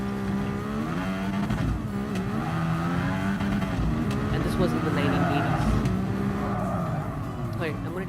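A Gr.X race car of roughly 700 brake horsepower in Gran Turismo Sport roars with a sustained, shifting engine note and revs rising and falling, heard under continuous talking.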